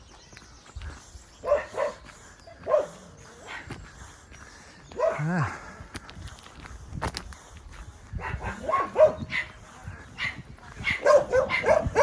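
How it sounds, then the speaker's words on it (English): A dog barks and whines in short irregular bursts, somewhat distant, with a brief murmur of a voice and outdoor background noise. "That sounds like an unhappy doggy."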